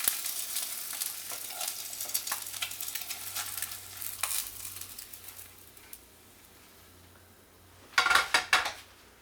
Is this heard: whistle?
no